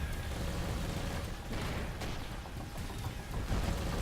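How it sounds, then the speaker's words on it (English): Space combat in the video game Avorion: muffled gunfire and missile blasts blur into a continuous low rumble with scattered thuds, fairly faint and steady throughout. "Stop shooting at me. Oh, I'm getting missiles, too."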